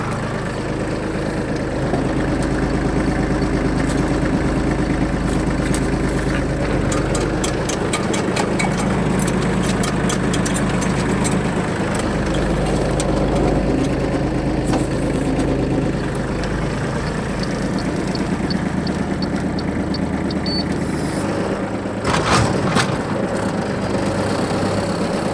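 A Shibaura D215F Japanese mini tractor's diesel engine idling after starting, a steady, even low chugging hum held for the whole stretch, fairly close, with a brief rattling change near the end and no talk.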